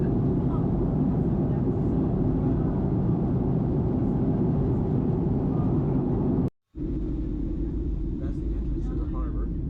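A passenger airliner descends over the Pacific Ocean into San Diego on a clear day, its engines and airflow making a steady, heavy cabin drone that cuts out briefly before resuming.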